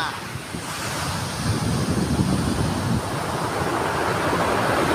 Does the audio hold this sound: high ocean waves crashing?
yes